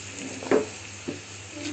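Okra and potato curry sizzling in a pan as it is sautéed, a soft steady hiss broken by two brief stirring scrapes.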